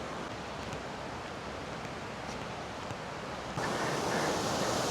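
A waterfall in Kashmir sends down a steady, dense roar of rushing water that grows noticeably louder and brighter near the end, with no talking.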